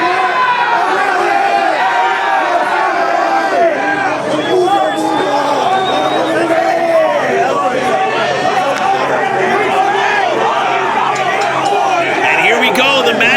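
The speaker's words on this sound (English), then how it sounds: "Listen to this crowd." An indie wrestling crowd roars and chants during a match, a loud, dense babble of shouting voices that stays at full intensity throughout with scattered whoops rising above the din.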